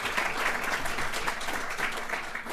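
Summit audience applauding a panel of speakers, a dense steady wash of clapping from a large crowd that carries on for a few seconds without letting up.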